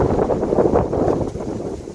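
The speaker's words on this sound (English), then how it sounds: "The wind is strong." Strong cold wind buffets the microphone outdoors at a zoo, a steady loud roaring rush with gusty swells and no talking.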